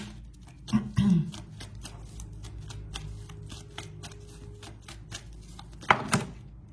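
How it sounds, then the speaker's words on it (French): Tarot cards are shuffled and drawn with a quick run of soft riffling flicks and a few louder slaps as cards land, close by, with someone speaking French over parts of it. "Alors on va prendre d'autres cartes ici."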